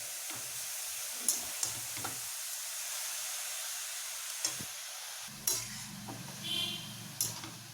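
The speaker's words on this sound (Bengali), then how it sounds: "আমি এটা চিনিটা ছাঁচি কুমড়ো আর নারকেলের সাথে নাড়ছি" A spoon stirs sugar with ash gourd and grated coconut in a pan for a dessert. The pan gives a steady soft sizzle with occasional scraping clinks and taps against the metal.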